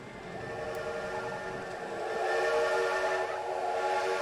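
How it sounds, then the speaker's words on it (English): A sustained whistle tone with a steady hiss rings out from a train near a Belgian amusement park, holding for several seconds and swelling slightly toward the end, fairly distant with no talking. "Why is that train so loud?"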